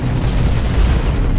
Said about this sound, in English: you just took that cannon to the face